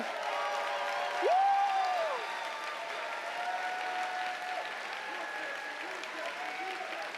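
A convocation crowd in a hall breaks into applause and scattered cheering after being urged to make noise. The noise is steady and moderately loud, with a single short whoop standing out near the start.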